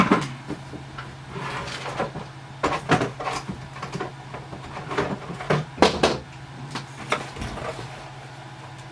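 Someone rummages through a toolkit hunting for needle-nose pliers, making a string of close clattering knocks, clicks and shuffles of metal tools at an uneven rhythm with no talking.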